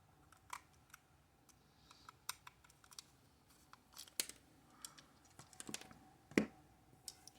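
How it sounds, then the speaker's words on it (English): Small triangle-head security screws being unscrewed from the plastic head of a 2002 McDonald's Robo-Chi Robo-Baby toy, giving faint scattered clicks and ticks with a few sharper taps, close and quiet. "So, we'll start unscrewing the 3 screws from the head."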